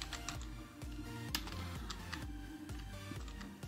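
Rapid typing on a computer keyboard while entering C code, with a dense stream of close, crisp key clicks at an uneven rhythm running throughout over a low hum, no talking.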